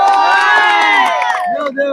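A crowd of football supporters at a village gathering erupts in loud sustained cheering and shouting, many voices overlapping close by, tapering off near the end.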